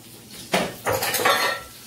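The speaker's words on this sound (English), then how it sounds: "I'm going to put my pan over here." A frying pan set down on a stovetop with a couple of sharp metallic clanks, followed by a brief scraping rattle of cookware, close and fairly loud, with no voices.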